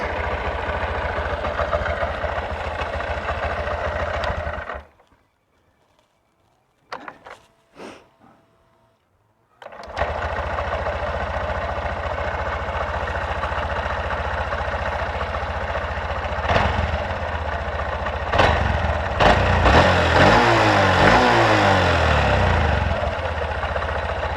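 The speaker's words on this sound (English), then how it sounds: "as you can see, the bike's running" Honda CB125F motorcycle fitted with an upgraded 120cc fuel injector runs at a steady idle, a loud continuous engine drone that cuts out briefly for a few seconds, then resumes with some revving toward the end.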